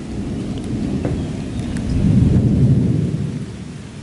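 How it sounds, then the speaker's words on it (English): Rolling thunder during a storm with steady heavy rain, heard around an abandoned château; the rumble swells midway and then eases while the downpour continues underneath. "Thunder."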